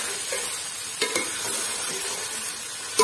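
Salted carrots for gajar ka halwa are stirred in a pan, a continuous close sizzle with a soft scraping texture and a couple of sharper clinks from the spoon, steady and unaccompanied by voices.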